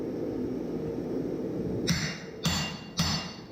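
Three heavy hammer blows ring out sharply and close while a punch is driven through a hot Damascus steel axe billet, spaced about half a second apart over a steady low roar of the forge.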